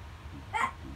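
A dog gives a single short bark, fairly close and moderately loud, over a quiet room hum.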